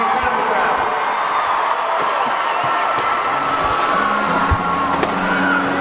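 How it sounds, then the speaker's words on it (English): A concert crowd at a show cheers and whoops with scattered clapping, a loud, continuous roar of many voices filling the venue. "Give yourself a round of applause."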